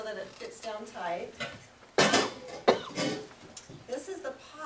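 The metal pot of a solar cooker clanks and knocks as it is handled and set down, two sharp loud clunks amid lighter rattles while someone talks over it.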